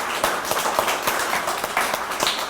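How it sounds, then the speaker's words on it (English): Audience applause for a police officer at a mall award ceremony, a brief burst of many hands clapping close by with a steady, dense patter. "So give Officer Rogers a big round of applause."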